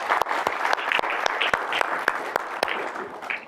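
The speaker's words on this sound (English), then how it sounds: "let's all give them a round of applause" An audience at an immigration stories event in a public library space applauds steadily, a dense patter of clapping hands with a few louder individual claps standing out.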